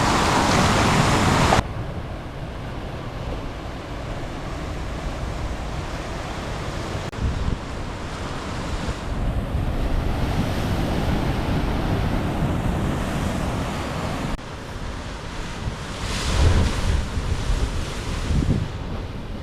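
Surf rolls onto a small black sand side beach at Wai'anapanapa on Maui, steady crashing waves heard up close with gusts of wind buffeting the microphone and no voices.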